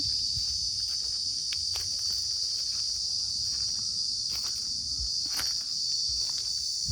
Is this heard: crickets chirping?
yes